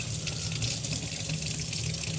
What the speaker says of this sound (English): Water's a little warm. Warm water's okay for a cold skillet,